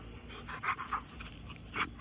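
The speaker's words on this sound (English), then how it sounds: "And, you know, he's a good dog." A house dog panting close by in quick, breathy bursts, soft and rhythmic, with a faint whimpery edge and quiet room background.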